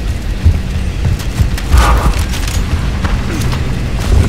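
Fuel tank explosion in the Gears of War Ultimate Edition video game: a loud, low boom rolling under continuous rumbling battle noise, with a brighter burst near the middle and sustained low-end roar throughout.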